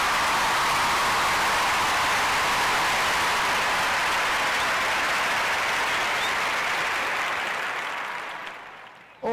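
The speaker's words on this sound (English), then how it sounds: "I want to give my special guest a special round of applause." A room full of people gives a long, dense round of applause for a special guest, 106-year-old Lula Mae Keaton, the loud even clapping holding steady for several seconds before fading and cutting off abruptly.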